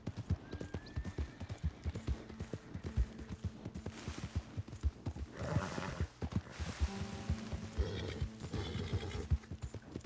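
Horse hooves clip-clop steadily in Red Dead Redemption 2, a brisk rhythmic trot close up with soft game ambience and a brief whinny-like sound partway through, no talking.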